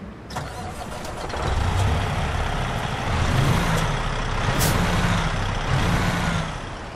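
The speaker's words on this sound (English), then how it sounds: "this is my truck. From the outside, right? And how does it sound like? Let me hear it." An International LoneStar truck engine in American Truck Simulator cranks and starts with an air-brake hiss, then settles into a loud, steady, deep idle rumble with a few brief high hisses over it; no speech.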